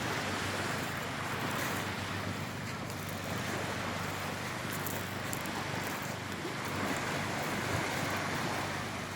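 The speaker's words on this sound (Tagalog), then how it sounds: "Lagaslas ng tubig, dagat." Seawater surges and washes in a continuous broadband roar, waves and surf mixed with wind buffeting the microphone, steady throughout with no distinct breaks.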